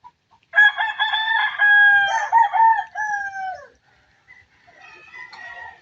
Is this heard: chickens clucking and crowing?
yes